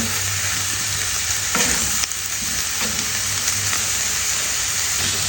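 Pizza bread toppings of ground meat and pepper fry in a pan as they are stirred, producing a steady loud sizzle with occasional scraping sounds.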